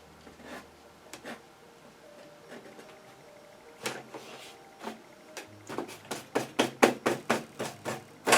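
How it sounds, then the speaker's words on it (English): A dry brush scrapes and dabs oil paint off a canvas, first in sparse scratchy strokes, then in a quickening run of sharp, evenly spaced taps and scrubs, close and fairly loud. "Scratch it off with a dry brush."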